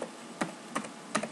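Three quick, quiet keystroke clusters tapped on a computer keyboard while an invite code is entered, spaced about a third of a second apart, close and alone in a hushed room.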